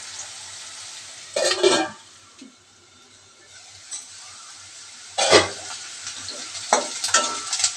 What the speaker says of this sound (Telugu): దాల్చిన చెక్క లవంగ మొగ్గలు వేస్తున్నానండి. ఇలా కాసేపు మగ్గనిద్దామండి.